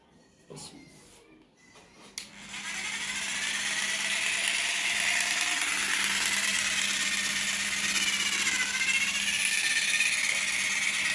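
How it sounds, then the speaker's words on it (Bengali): An electric shearing machine cuts the wool of a dumba sheep, a steady loud mechanical buzz starting after a couple of seconds and running continuously, with a few brief knocks and some background activity beforehand. "দেখেন এই যে মেশিন এটা কীরকম কাটে"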